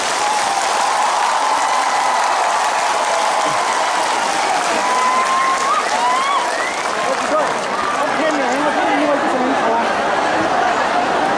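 An audience gives sustained applause, a thick continuous roar of clapping mixed with crowd chatter and raised voices, loud and unbroken for the whole stretch.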